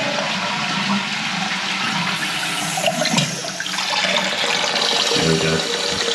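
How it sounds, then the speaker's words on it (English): A toilet flushes with a loud, close rush of water, then the cistern refills with a steady hiss and gurgle after its valve has been replaced, with a brief knock near the end. "Once I've flushed it, you'll see how quick it fills up compared to before."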